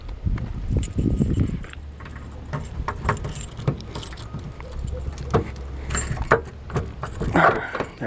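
Keys to a 1941 Chevrolet coupe jangle and clink close by in short metallic bursts, with handling noises, a low engine-like hum and scattered rustling around them.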